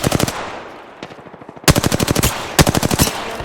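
Rapid automatic gunfire in the Apex Legends video game, loud bursts of fast repeated shots separated by brief pauses, with a lone shot in between and no talk.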